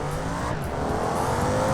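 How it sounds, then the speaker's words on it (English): A V8 ETK 900 luxury sedan in the BeamNG driving game drones under steady throttle, its exhaust a loud continuous rumble with a slowly rising pitch, and no voices. "Now this car has a great sounding exhaust."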